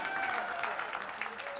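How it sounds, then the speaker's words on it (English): Crowd applause for the Aquinas College team at a secondary schools national basketball championship, a brief spell of clapping and cheering in an indoor arena with some voices mixed in. "One more round of applause for Aquinas College"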